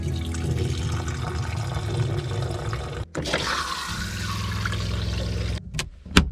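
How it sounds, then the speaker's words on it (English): Urine splashing into a small toilet inside a van, a continuous close watery trickle that breaks off briefly midway, resumes, then ends in a few short spurts. "Peeing."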